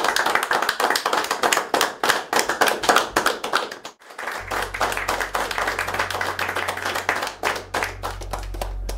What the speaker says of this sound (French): Vous pouvez l'applaudir très fort.